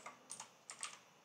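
Short, soft bursts of keystrokes on a computer keyboard while code is entered, a few quick clusters of clicks close by and quiet.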